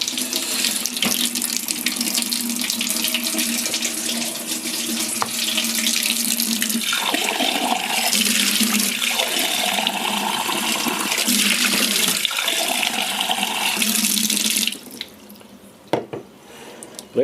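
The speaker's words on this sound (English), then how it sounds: "Right, let's get some water." Tap water runs steadily into a drinking glass at close range, a continuous splashing rush that shifts in tone as the glass fills, then cuts off abruptly near the end, leaving quiet room sound.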